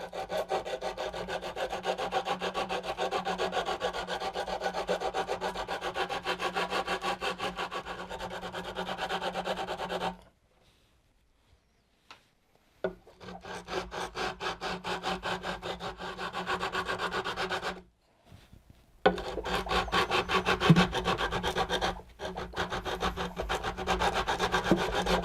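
A sanding block is rubbed back and forth along the frets of a guitar neck to level them, making rhythmic, close scraping strokes in steady bursts separated by two short pauses.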